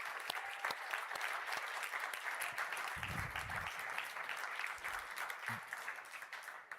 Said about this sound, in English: Give all of the startups a huge round of applause, please.